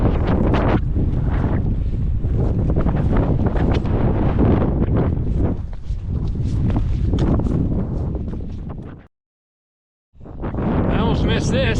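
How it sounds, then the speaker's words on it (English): Strong wind buffeting the microphone on a mountain route, loud gusty roaring that fills most of the clip, then cuts out for about a second and returns. "Noticed the wind was coming in the wrong way."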